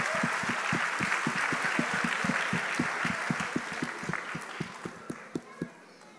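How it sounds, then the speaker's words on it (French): A church congregation applauds for the Lord in steady, sustained clapping over a regular rhythmic beat, loud at first and then thinning into a few scattered claps at the end. "Give the Lord a hand clap"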